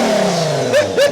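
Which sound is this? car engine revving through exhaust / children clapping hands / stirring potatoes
car engine revving through exhaust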